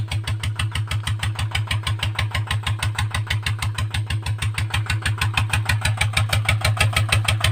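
A ZT engine with a new pipe runs steadily while pumping water, its close, loud exhaust thumping in an even, rapid rhythm that holds throughout with no talk over it.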